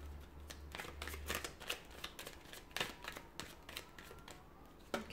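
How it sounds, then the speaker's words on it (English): Tarot cards are shuffled in a quick series of soft riffling flutters and crisp slaps, close and fairly quiet, with no talking over them. "we'll give the cards a shuffle"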